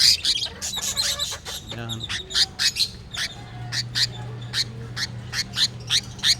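A stressed pet bird, harassed by its mate after its egg was taken, gives a run of sharp, repeated squawks and chirps, close and loud, with brief background talk and a low hum.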